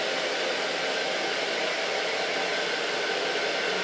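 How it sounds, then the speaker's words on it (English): Hair dryer blowing on curly hair during finger blow-drying, a steady close whooshing rush of air with no change in level and no voices. "I just blow dry it with the use of my fingers."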